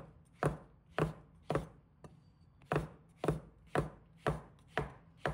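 Shiitake mushrooms being cut into small pieces with a knife, about ten crisp, evenly spaced chops on a board, close and clear with a short pause midway.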